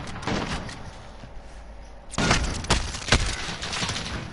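Video game gunfire cracks out in several sharp bursts, a few scattered early shots and then louder, closer reports clustered in the second half.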